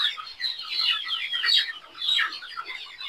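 Layer hens cluck and squawk in a dense, overlapping chorus while being held one by one for a Nobilis coryza vaccination. The agitated calls stay close and steady, with no pause.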